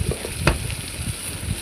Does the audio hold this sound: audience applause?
no